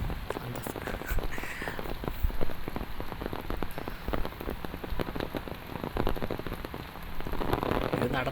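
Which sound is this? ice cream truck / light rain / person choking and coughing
light rain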